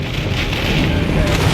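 Heavy nor'easter rain pours down hard and close, a dense, loud, unbroken hiss of drops on surfaces with no pauses.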